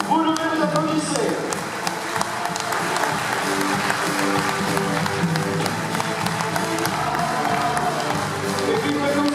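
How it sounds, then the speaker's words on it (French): A crowd at a cycling race prize ceremony applauds a team, loud close clapping and some cheering running throughout, with voices and music-like tones mixed underneath. "vous applaudissez."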